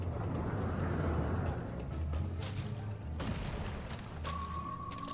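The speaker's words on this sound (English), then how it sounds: "Why are the boulders just exploding?" Booming explosions of boulders bursting apart in Final Fantasy XIV, a dense, continuous rumble of blasts and crackling debris with a steady tone entering near the end.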